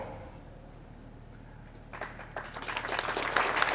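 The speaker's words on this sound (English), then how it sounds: "we should give him a round of applause" Quiet room hum at first, then applause breaks out about halfway through at a Meghalaya engineering college event and swells, clapping growing louder and denser toward the end.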